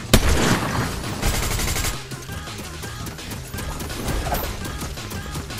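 A turret fires in a TMNT video game, rapid continuous gunfire bursts with crashing impacts, loud and dense throughout, over busy game sound.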